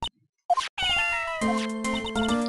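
A cartoonish cat meow from the Phoenix Wright Ace Attorney Justice for All video game: a short chirp, then a sustained tonal meow with a rising, wavering pitch and bright harmonics, loud and alone with no voices.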